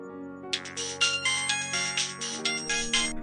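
A mobile phone ringtone plays a bright repeating electronic melody in rapid pulses, clear and moderately loud, with no talking over it.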